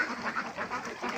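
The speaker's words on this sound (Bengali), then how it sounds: "এই যে দেখেন আপনারা কত সুন্দর হাঁস" A flock of ducks at a duck farm quack steadily and close by in overlapping calls, with no talk over them.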